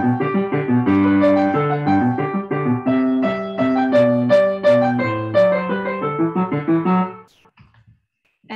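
The original Minuet in G is played on piano as a clear, steady melody over a bass line, loud and close, then ringing out into near silence at the end.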